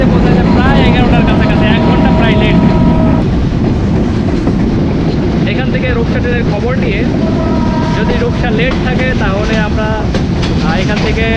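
The Silahati Express runs through northern Bangladesh toward Natore, heard from inside a carriage as a loud constant rumble with clickety-clack of the wheels. Voices and tonal, melodic sounds rise over the noise at times.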